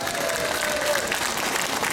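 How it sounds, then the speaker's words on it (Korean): A church congregation breaks into steady, dense applause, many hands clapping together indoors for the full stretch, loud and close. "하나님 아버지께 박수로 영광 돌리겠습니다."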